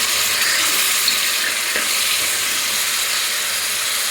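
Tomato hitting fried onions in a hot pan, a loud, steady hiss of sizzling and steam that fills the whole moment without pause.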